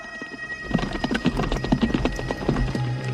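Brisk clip-clop of horse hooves in a western film, a quick run of hoofbeats close by and fairly loud over a low background hum.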